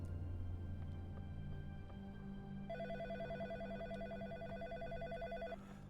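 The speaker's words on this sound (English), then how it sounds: "I have a phone call." Telephone ringing in the video game In Sound Mind, a low steady electronic tone followed by a brighter warbling ring with rapid pulsing repetition, faint and alone.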